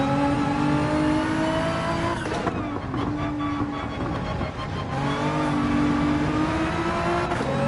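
Porsche 911 engine in Gran Turismo 7 accelerating hard, a loud continuous racing engine note that rises through the gears with brief dips at shifts, steady and close throughout.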